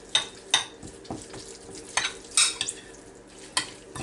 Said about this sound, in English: we're just going to mix it all together